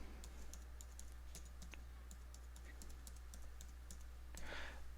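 Password being typed on a computer keyboard while logging into a QRadar 7.3.3 console hosted in Azure, with faint, quick key clicks in an irregular run over a steady low hum and a brief louder burst near the end.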